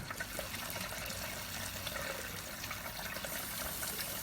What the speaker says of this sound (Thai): เราก็ เปิดน้ำอัดมันหน่อยให้ มันคลีนตัวเองรอบหนึ่งนะครับ